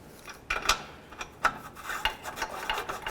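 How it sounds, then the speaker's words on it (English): A ratchet works a downstream O2 sensor loose on a 1997-2005 Lexus GS300, giving uneven back-and-forth scraping and clicking strokes at close range, with no talking. "I like to just work it back and forth a little bit, and then you should be able to just twist it out by hand."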